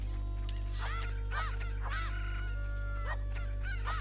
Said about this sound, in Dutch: Altijd die kip aanvallen, hè.